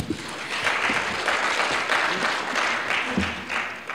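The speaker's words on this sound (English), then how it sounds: "Another round of applause." Close, sustained audience applause for the panelists at an economic summit session, a full even round of clapping with no talking, tapering slightly at the end.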